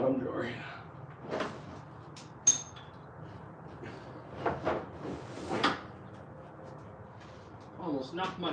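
A bottom drawer in a workshop slides and knocks shut, several brief rattling thumps and one sharp clack spread across the clip, with people talking nearby.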